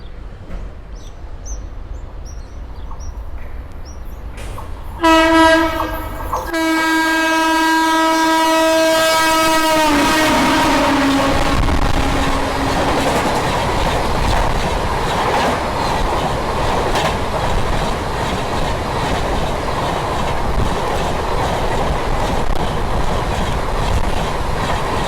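Passenger train 01463 from Somnath passes Vatva railway station, India: the horn blasts loudly with sustained tones for several seconds, then a long steady roar of wheels and wagons rolling close by, no talking.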